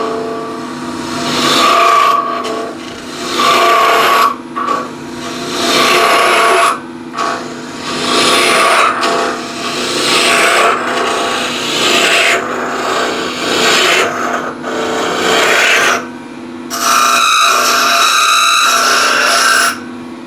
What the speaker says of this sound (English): So I go straight in, I make the point of the gouge inside the very center, and then just drop the handle down